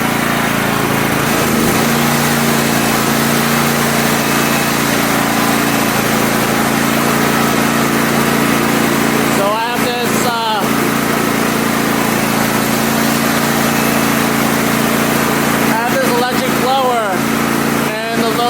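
A Champion 100520 generator running on propane holds a steady, loud engine drone under added electrical load, continuous throughout, with two brief interruptions of whistling, sweeping noise partway through.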